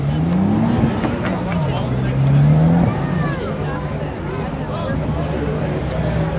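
Race cars run close together on a circle track, heard as a continuous engine roar with rising and falling revs, under a voice talking over the action.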